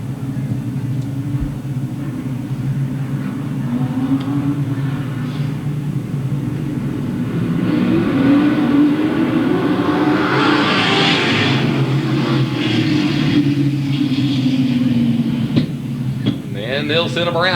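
NASCAR Winston Racing Series late model race cars circle Louisville Motor Speedway, a steady loud engine roar that swells as the pack passes close and fades, with an announcer talking over it.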